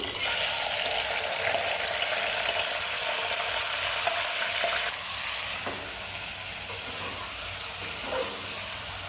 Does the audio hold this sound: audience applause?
no